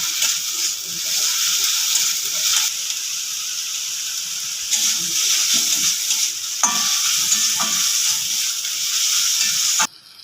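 Onion, tomato and ginger-garlic paste fry in a pan with a loud, steady sizzle, broken by spoon scrapes and brief pauses as the mixture is stirred.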